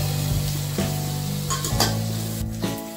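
Rice roasting in a pan for prawn biryani gives a soft, steady sizzle, broken by a few sharp scraping stirs of a spoon against the pan.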